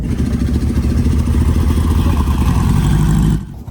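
A Volkswagen Beetle's small air-cooled engine chugs loudly close by with a rhythmic rumble, then cuts off sharply near the end as it pulls away.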